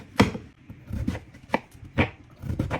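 A knife chops boiled pork into bite-size pieces in a home kitchen in Norway: about five sharp, close, uneven strikes on a board with quiet pauses between them, and no voices.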